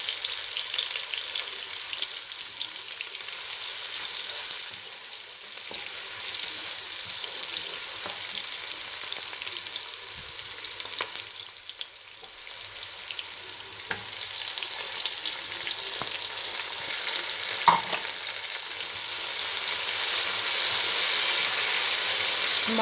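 Food frying in a pan until lightly browned gives a continuous, close hissing sizzle with small crackles throughout, swelling a little louder toward the end.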